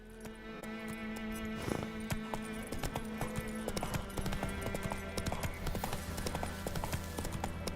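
Hoofbeats of Roach, Geralt's horse in The Witcher 3, galloping across the White Orchard countryside: steady, rhythmic clip-clop close by over ambient game sound, with a brief whinny-like accent.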